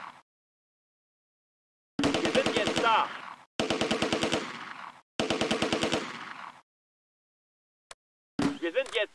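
Automatic gunfire in the video game Close Combat: A Bridge Too Far, with three loud sustained bursts of rapid shots separated by silences, then a single sharp shot and a short final burst.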